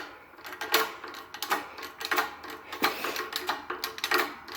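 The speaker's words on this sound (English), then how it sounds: "the bearing is pressing right out" A Honda wheel bearing is pressed out of its hub with a socket and adapters, giving a close run of sharp, rhythmic mechanical clacks and ratcheting bursts, with no voices.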